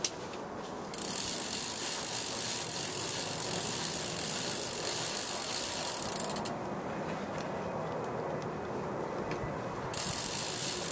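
A bicycle chain and freewheel spin with a fast, steady ratcheting click while dry lube is applied; the close mechanical whirr runs continuously, with a brief hiss in parts, and no talking.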